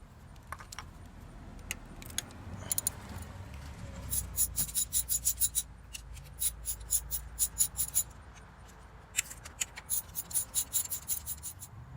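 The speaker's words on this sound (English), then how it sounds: "So I'm going to go ahead and get a 10mm socket, put it on a ratchet. We'll get those removed" A ratchet with a 10mm socket backs out the ignition coil pack bolts on a Kia Rio, making bursts of fast, close metallic clicking separated by brief pauses, with no talk.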